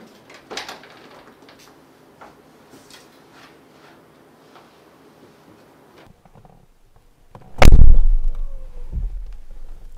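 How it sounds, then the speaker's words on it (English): 2021 Mercedes-Benz G-Class door slamming shut, a single loud, solid thud with a short latch click after, preceded by quieter handling noise and a soft follow-up knock. "Amazing G-Class characteristic, how the door closes, the sound."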